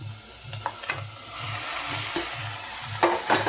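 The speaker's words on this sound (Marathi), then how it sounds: "यानंतर आपण हे सोयाबीन यात टाकूया." Soybeans go into a pan of rice and are stirred while frying, a steady sizzle broken by repeated scraping and clinking strokes of a spoon at close range, with no talk.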